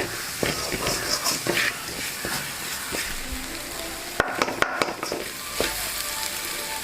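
Mushrooms fry with pepper in a pan, a steady close sizzle broken by repeated scraping and clattering stirring strokes.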